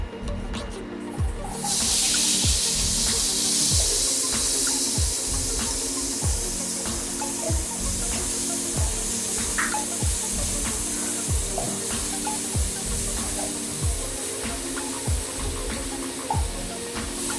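Chopped onion hitting hot sunflower oil in a pan on high heat erupts into a loud, continuous sizzle, with rhythmic scraping strokes as it is stirred quickly, and no one speaking.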